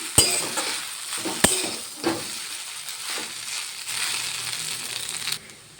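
Chowmein stir-fried with fried potato and egg in a pan, loud sizzling under repeated scraping and clanking of the spatula against the pan, close up, with sharp knocks at the start before quieting at the end.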